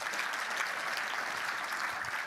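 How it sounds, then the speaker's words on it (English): Steady, dense applause from an audience at an annual charity fundraiser, sustained throughout without pauses, with no clear voices above it. "Give it a round of applause for Steve Johnson"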